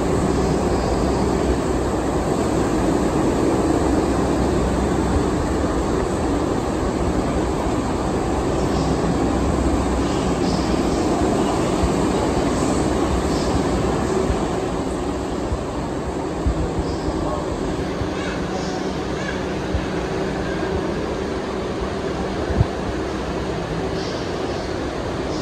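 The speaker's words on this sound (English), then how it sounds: "Today we're going to be taking a look at the CUNY wrap on the Times Square Grand Central shuttle train." A Times Square–Grand Central subway shuttle train rumbles and hums steadily at a station, a loud, dense roar of motors and ventilation that holds for the whole stretch without a break.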